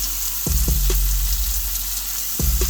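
Vine tomatoes land in a hot pan with a couple of close, abrupt hits, then a loud, steady sizzle of frying continues, with another drop near the end.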